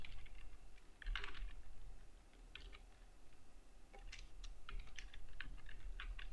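Text is entered on a computer keyboard while filling in a PDF form in Nitro Pro: faint, close keystrokes come in scattered short bursts over a low, quiet background.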